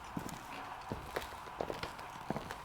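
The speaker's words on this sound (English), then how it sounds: "I definitely heard footsteps." Footsteps in the video game The Suicide of Rachel Foster, a few faint, spaced-out thuds against a quiet indoor background.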